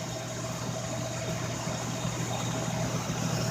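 A car engine idles steadily at close range, a constant low hum with a faint pump-like whir, its oil pressure holding well, with no voices over it.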